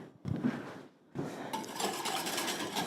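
Banana cream pie ingredients whisked in a bowl, quiet clinking and scraping strokes of a whisk against the bowl, briefly pausing then resuming in steady rapid rhythm, close up with no talk.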